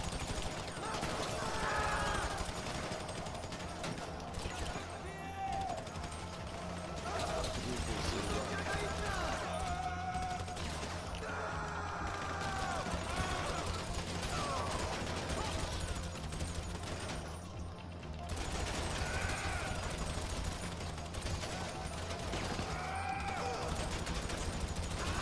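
Gunfire in the Grand Theft Auto V heist mode: a steady, dense wash of shots with sharp bursts over continuous game noise, running throughout with voices talking over it.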